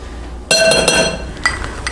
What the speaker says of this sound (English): I'm going to scrape this bowl real good so I can get it as much in as I can.